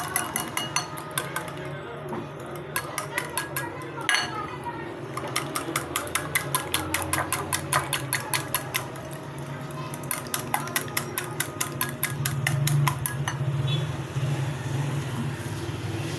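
Two eggs being whisked with a pinch of turmeric in a bowl, fast rhythmic metallic clinks repeating steadily for many seconds, close and clear, with brief pauses and a voice speaking at times.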